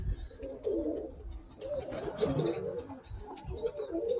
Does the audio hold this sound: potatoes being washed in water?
no